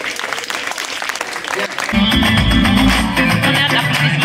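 A graduation ceremony audience gives a teacher a standing ovation, a dense roar of clapping that swells in and holds loud, with music and voices underneath.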